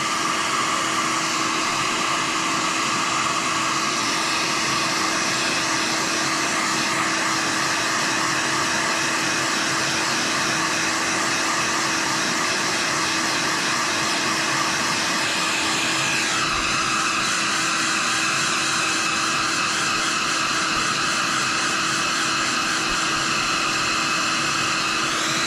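A heat gun blows hot air in a constant loud whooshing roar that holds steady for the whole stretch, close up with no talking, during motorcycle electrical repair work.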